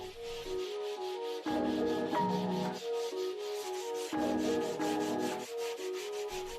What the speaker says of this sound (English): Sand the corners of the plate.